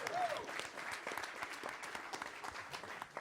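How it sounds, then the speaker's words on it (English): Comedy club audience applauding a Coast Guard crew at the Laugh Factory, a steady dense wash of clapping hands, close and continuous, with a voice briefly audible at the start. "Give them a big round of applause."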